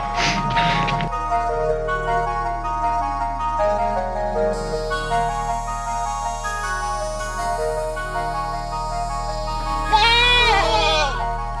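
Newborn goat triplets and their mother bleat on a trail, with several separate high, wavering cries close by and a final burst of overlapping bleats near the end, over a steady low background hum.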